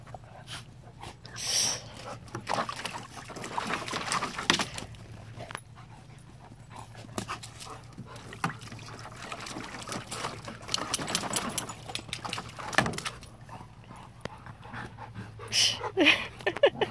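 Wet golden dogs pant heavily after a boat ride, with quick rhythmic breaths close by, a few whimpers and yips, and rustling movement, while a person's voice is faintly present.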